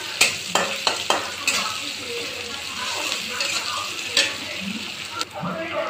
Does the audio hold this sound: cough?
no